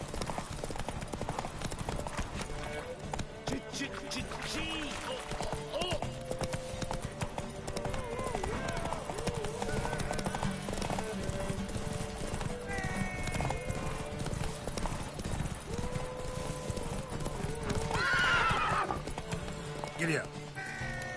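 Horse galloping in The Witcher 3, steady rapid hoofbeats with occasional neighs and whinnies over about twenty seconds, game sound mixed with voices speaking throughout.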